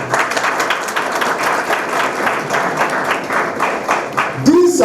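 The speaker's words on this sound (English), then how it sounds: "He needs to be applauded." Applause for a speaker at a Ghana agricultural sector event in the Ashanti region, a steady crowd clapping that holds for several seconds before a voice breaks in at the end.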